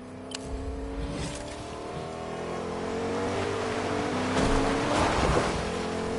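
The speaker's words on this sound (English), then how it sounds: "I got a truck, guys." A truck drives in Fortnite, its engine a loud continuous drone whose pitch climbs steadily as it accelerates over about six seconds, heard without talking.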